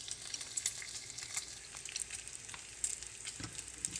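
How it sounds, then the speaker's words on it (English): Bacon fries in a pan on a stove, a steady close hiss of sizzling and fine crackling pops that continues without a break and with no talk over it. "I can smell and hear when it's time to turn my bacon."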